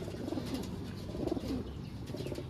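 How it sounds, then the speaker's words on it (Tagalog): Pet pigeons or doves, some of them recovering from pox, coo softly in a repeated low pattern over a steady, noisy background. "So ayan yung mga ibon natin,"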